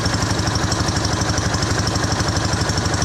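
Close, steady engine idle with a calm, regular low throb and light mechanical vibration, constant in level and uninterrupted from start to finish.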